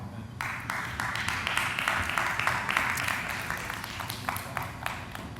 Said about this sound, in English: I actually got applause from a live audience